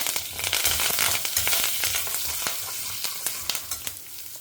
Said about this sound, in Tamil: கடுகு பொறிஞ்செடுத்து பருப்பெல்லாம் செவக்க ஆரம்பிச்சுட்டு கொஞ்சமாக வாசனைக்கு பெருங்காயம் கருவேப்பிலை பச்சை மிளகா